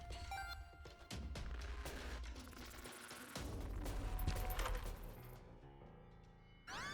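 Spooky Bombs going off in The Binding of Isaac, a dense run of overlapping blasts and crackling bursts over game music, loud and close for about six seconds, then cutting off.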